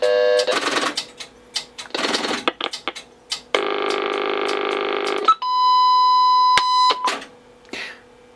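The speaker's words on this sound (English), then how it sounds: "There's my milliwatt test line. Ah, that's loud." Sage 930A telephone test set in repair, with a mix of beeps and buzzy signalling tones, then a loud steady pure milliwatt test line tone holding for about two seconds before cutting off.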